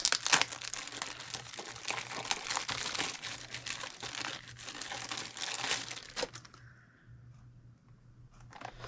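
Cellophane wrapping is peeled off a value pack of thread spools close by, a busy crinkling and crackling that runs for several seconds before fading into quiet, with a few faint rustles after.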